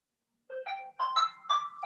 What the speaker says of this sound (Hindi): मेरे यहाँ कोई दूसरा फोन लगा हुआ है, वो बज रहा है